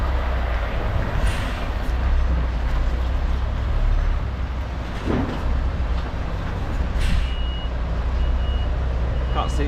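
Truck reversing alarm beeping steadily while a trailer is backed into a loading bay, over a constant low diesel engine rumble.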